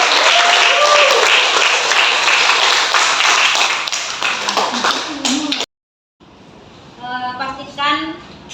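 Audience applause at a teacher training session in a computer lab, a dense burst of clapping that runs loud for several seconds, then cuts out and gives way to a person speaking.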